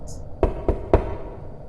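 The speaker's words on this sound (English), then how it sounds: "I hear knocking at the south entry." Three evenly spaced, solid knocks on a door, close and distinct, against a quiet background.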